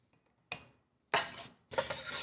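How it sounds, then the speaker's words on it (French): Onions dropped into a small jar land with a few brief clinks and knocks of glass, three separate bursts close up in an otherwise quiet kitchen. "Je vais préalablement mettre mes oignons dans un petit pot."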